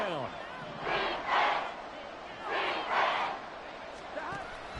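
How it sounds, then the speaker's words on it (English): A stadium crowd at Arrowhead in a PS5 football video game roars in two loud swelling waves over an ongoing background hum, with brief voice fragments at the start and end. "The Arrowhead crowd in full roar."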